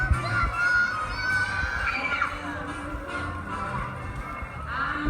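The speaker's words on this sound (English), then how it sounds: "Full apologies for the screaming." Screaming and shouting from a crowd of people carry through the Halloween Horror Nights construction area at a theme park, a continuous loud mix of shrieks and cheering voices.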